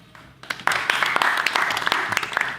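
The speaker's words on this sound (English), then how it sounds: "Let's have a quick practice now with a really quiet round of applause" A studio or small-theatre audience at an improv comedy show gives a soft, restrained round of applause, a light patter of scattered claps building after a brief pause and holding steady for a couple of seconds.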